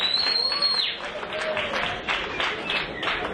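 An audience at a Book Cafe album launch applauds, a lively burst of clapping and cheering with whistles, loud and continuous throughout.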